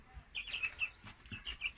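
Small chicks peep in a few quick, high, soft calls, faint and close together, alongside a dog they were brought to meet.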